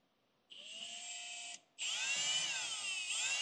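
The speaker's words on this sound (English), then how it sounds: "we'll just match it up and just drill it all the way through there" A power drill whines at high pitch, stops briefly, then bites in again with a louder, straining grind as it cuts through metal.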